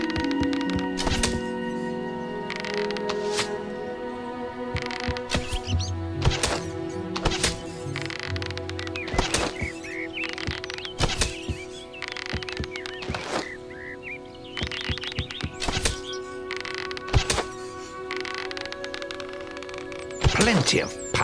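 Bow arrows fired at a target during guild archery training in the Fable video game: repeated sharp thwacks and string snaps land at irregular intervals, fairly close, over a steady bed of ambient background music.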